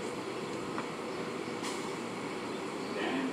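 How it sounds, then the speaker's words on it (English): An R142 subway car on the 4 line at Bedford Park Boulevard, a steady rumbling interior train roar with faint rail clicks and a brief squeal, continuous and close throughout. "the Woodlawn bound 4 train"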